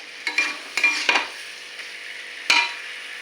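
Water goes into a pan of frying potatoes and spices, sending up a few sharp sizzling bursts and stirring scrapes, then a final hissing splash, close and clear with no talk.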